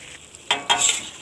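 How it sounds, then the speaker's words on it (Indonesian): Sambal with fried prawns is stirred in a sizzling pan, with a couple of sharp scraping strokes rising over a steady frying hiss and no talking. "Sekarang saya akan masukkan udang yang sudah saya goreng tadi. Dan kita kacau sebati."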